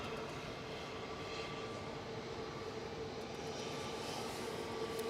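An airliner arriving from Milan on approach to Manchester Airport, a steady broad engine roar with a faint tonal whine, continuous and fairly distant, no voices.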